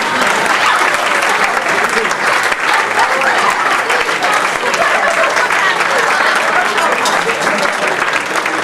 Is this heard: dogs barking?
no